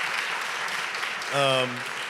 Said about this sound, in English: Listen, we gotta clap it up for this answer.